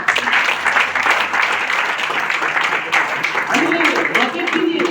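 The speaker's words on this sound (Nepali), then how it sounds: "एकदम जोरदार ताली" An audience at a DXN gathering breaks into loud, sustained applause, a dense wash of clapping that lasts several seconds, with voices rising faintly underneath near the end.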